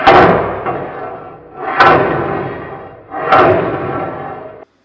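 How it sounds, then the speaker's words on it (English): Three firm knocks of a file striking galvanized steel plate to break off plasma-cut slag, each hit loud and close with a short ringing decay, spaced about one and a half seconds apart with no talk. "So that slag knocked off there with the file really easy"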